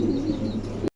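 Pigeons, a pair of white Shokin birds, coo in a brief, close burst that cuts off abruptly.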